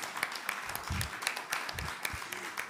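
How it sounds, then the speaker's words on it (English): Audience applause after a talk on Australia as a renewable energy superpower, a steady patter of many hands clapping at moderate distance, filling the short stretch without a break and with no voices over it. "I think that deserves a round of applause"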